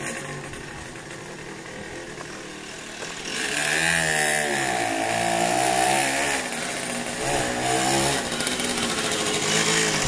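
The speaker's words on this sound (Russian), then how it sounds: "Мотор чем больше работает, обкаточка проходит, тем он мощнее становится." Karpaty moped engine rebuilt with a Honda Dio piston, running with a buzzy two-stroke rasp that grows louder partway through and keeps going with shifting pitch, close and steady with no talking.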